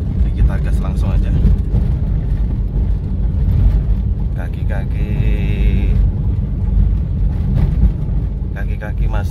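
A 1995 Mitsubishi Lancer GLXi accelerates over an uneven road, with a steady heavy engine and road rumble from inside the cabin and brief rattles.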